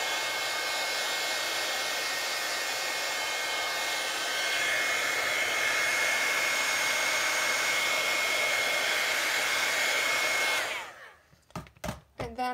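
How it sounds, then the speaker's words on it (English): Embossing heat tool blowing hot air to set and dry embossing on a card, a steady, close whooshing drone for about ten seconds that cuts off, followed by a few light clicks and taps. "I am going to heat set that again just to help it dry"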